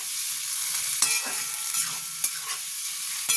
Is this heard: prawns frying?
yes